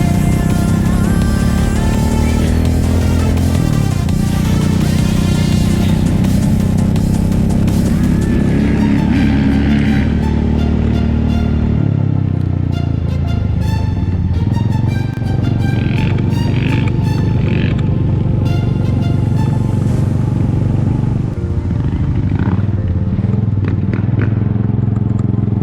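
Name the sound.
Honda CRF450RX dirt bike ridden at quarter throttle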